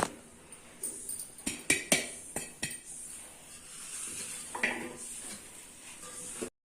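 A sieve is set down over a metal cooking vessel in a home kitchen, giving a series of sharp metallic clinks and knocks early on, then softer scraping and rustling before a sudden stop.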